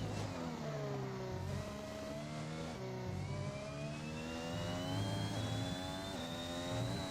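Simulated Formula 1 race car engine from F1 2021, revving hard and steady under throttle with rising pitch as the car accelerates out of a corner, loud and continuous throughout, with no talk.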